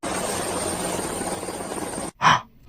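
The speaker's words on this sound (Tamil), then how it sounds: "என்ன ஹெலிகாப்டர் சத்தம் கேக்குது?" A helicopter passing over a house rooftop as a steady, moderately loud rotor drone for about two seconds, which cuts off and is followed by a brief vocal sound.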